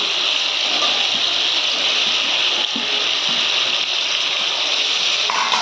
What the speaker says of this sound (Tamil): தட்டைப்பயிர் சேர்த்துட்டு இப்படி கிளறி விட்டுக்கலாம்